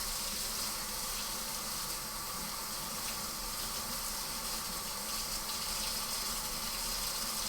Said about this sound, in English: I'm gonna rinse off this brush now because I need it for my tea